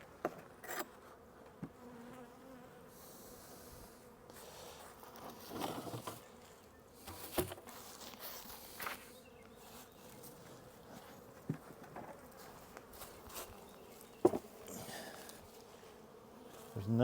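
Honey bees buzz faintly around an open hive during a full spring inspection, with scattered knocks and handling noises breaking through the low steady drone.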